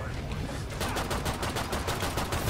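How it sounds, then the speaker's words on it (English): Rapid pistol fire in Killing Floor 2, a quick string of close, loud shots in steady succession with no talking over them. "I have these pistols too, I forgot."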